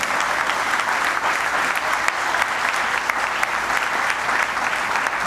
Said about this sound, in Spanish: Y sobre ese quién, Jesús, yo te pido un aplauso.